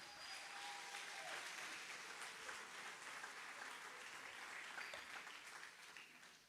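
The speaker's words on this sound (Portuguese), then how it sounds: "Aplaude, se é para o Senhor," Worshippers in a church clap in a steady, sustained wave of applause, a dense even patter that holds at a constant level before tapering slightly at the end.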